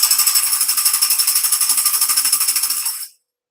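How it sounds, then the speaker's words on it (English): A tambourine shaken in a fast, even rhythm, with bright jingles pulsing loudly and close for about three seconds before stopping abruptly into silence. "Let me get my tambourine."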